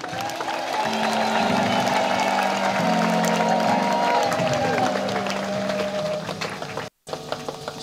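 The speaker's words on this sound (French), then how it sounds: "Et c'est pourquoi je voudrais que nous puissions l'applaudir très très fort." An assembly in Goma gives a long, loud round of applause for Cardinal Luis Antonio Tagle. Dense clapping and cheering swell for about seven seconds, then cut out abruptly before a brief resumption.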